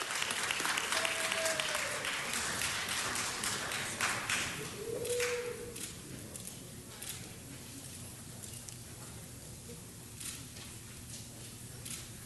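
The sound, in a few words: applause for Michelle Miranda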